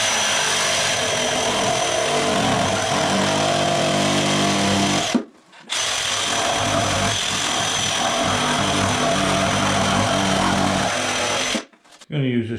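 An Arbortech shaping tool rounds the edges of wood for DIY campfire furniture, giving a loud, steady grinding whine that runs continuously and breaks off briefly twice.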